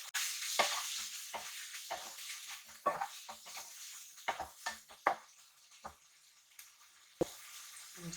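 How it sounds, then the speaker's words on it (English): Pre-boiled clams cooking in a pan for seafood aglio olio pasta, a steady soft sizzle broken by repeated stirring clinks and scrapes, moderately quiet and close with no talking. "Now I add in the clam. The clam already boiled, so it's already cooked. So just cook a little while."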